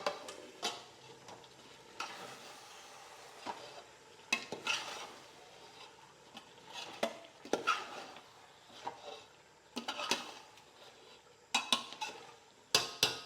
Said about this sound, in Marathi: आणि आता पुन्हा मिक्स करून घेऊ